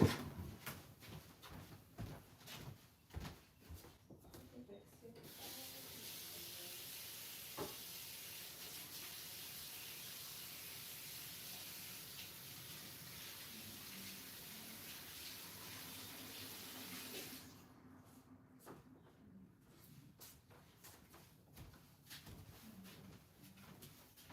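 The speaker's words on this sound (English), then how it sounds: "Let me wash my hands real quick." Steady rush of water running from a tap into a sink during hand washing, close and continuous for most of the stretch, framed by soft handling clatter before and after.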